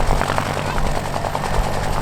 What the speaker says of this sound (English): Helicopter lifting